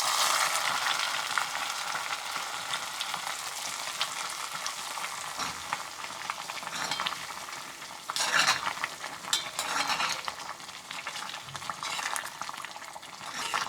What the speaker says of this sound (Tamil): நெய் ஊற்றுனதுக்கப்புறமாவும் ஒரு 2 நிமிஷம் கலருங்க, கொதிக்க வைங்க